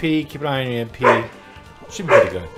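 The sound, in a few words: greyhound dog barking in the background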